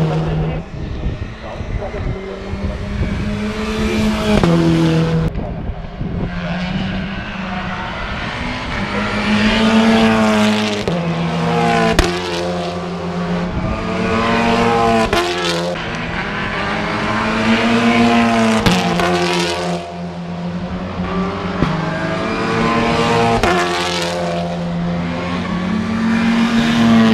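Race cars, a Honda among them, roar through a Superprix street race. The engines rise and fall in pitch with each pass, loud and close, in repeated waves with brief throttle lifts between them.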